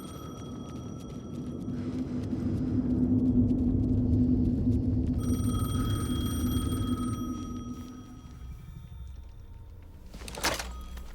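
A telephone rings in Alan Wake 2, its repeated tonal rings sounding over a low droning rumble, followed near the end by a short sharp knock; no one speaks.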